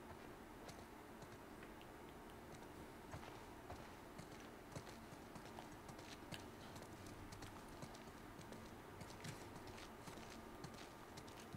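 Rapid horse hooves clip-clop continuously at a steady trot in The Last of Us Part II, quiet and even, with faint ambient background and no talking.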